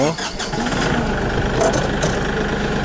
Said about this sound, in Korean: 시동을 한번 걸어 볼까요